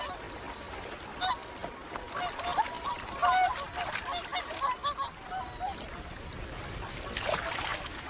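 Whooper swans give repeated honking, bugling calls at a moderate distance over a steady wash of outdoor ambience in an Icelandic setting, scattered across the stretch with a brighter cluster near the end.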